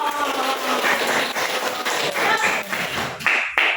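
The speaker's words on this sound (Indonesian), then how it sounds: "jadi saya mau tepuk tangan yang lebih ceria dong" A group claps in a classroom coaching session, sharp hand claps in quick, uneven bursts that swell and fade, ending with a few louder separate claps.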